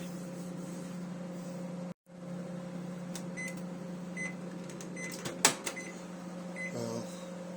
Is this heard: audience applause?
no